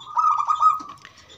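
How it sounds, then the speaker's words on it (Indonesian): A zebra dove, a local perkutut, gives a soft, rolling coo close by, a single short call that trails off quietly. "Ini untuk anggungan atau burung kelangenan Wandi Cukreng"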